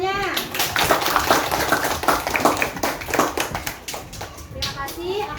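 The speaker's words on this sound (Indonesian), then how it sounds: "mari kita memberi aplaus untuk semuanya" A classroom of children applauds together, a dense continuous patter of hand claps lasting several seconds, with young voices calling out among the claps.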